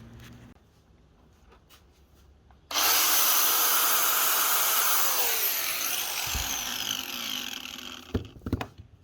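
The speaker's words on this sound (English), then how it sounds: "know exactly where to cut with the angle grinder" An angle grinder suddenly spins up and bites into an exhaust pipe clamped in a vise. It makes a loud, harsh, sustained shriek that shifts in pitch as it cuts, followed by a few clattering knocks at the end.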